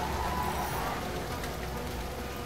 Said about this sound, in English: And we got some monsoon rain.